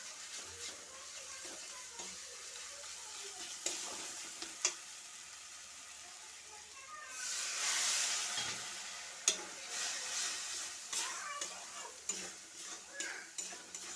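Masala spices being fried and stirred in a home kitchen pan, a soft steady sizzle with scraping stirs and small clinks, swelling louder midway before settling back to a low crackle.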